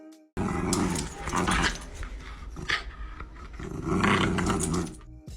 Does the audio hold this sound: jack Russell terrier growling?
yes